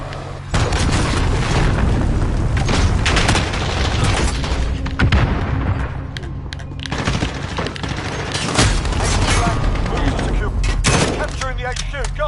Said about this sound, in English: Allied cruise missile.